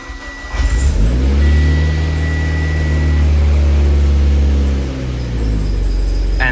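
A car engine starts up and settles into a loud, steady, low rumbling idle with a faint high whine, holding for several seconds and then dropping slightly near the end.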